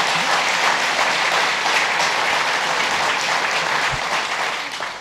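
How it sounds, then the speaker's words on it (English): An audience at a public announcement event for a downtown revitalization award claps in sustained, dense applause that fills the room steadily for several seconds before starting to fade. "Let's give them a round of applause."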